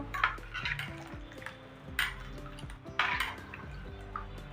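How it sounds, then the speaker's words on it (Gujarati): A spoon stirs amla juice mixed with lemon juice in a steel vessel, with repeated light metallic clinks and scrapes about once a second, close and quiet, no talk. "હવે બધી વસ્તુને સારી રીતે મિક્સ કરી લેશું"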